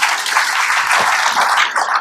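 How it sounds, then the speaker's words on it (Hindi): Audience at a spiritual talk applauding for themselves: steady, fairly loud clapping from many hands, sustained evenly without a break. "अपने लिए ताली बजाइए।"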